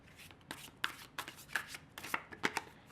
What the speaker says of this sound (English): A very sloppy shuffle.